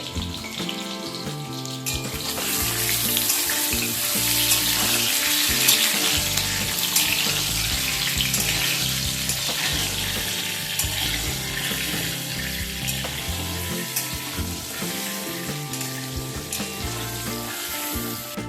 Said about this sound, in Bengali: এই আলুগুলোকে হালকা করে একটু ভেজে নিতে হবে।